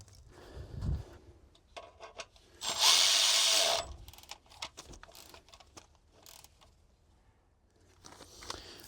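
A ground wire bolt is tightened on the frame of a 2008 Ford E350 van, with short scattered ratchet clicks and one louder, sustained whirring burst lasting about a second, all close and fairly quiet.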